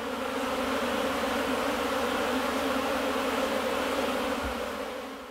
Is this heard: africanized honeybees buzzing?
yes